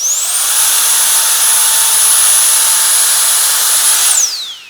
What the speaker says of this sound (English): let's go ahead and move on to the new NOZZLES blower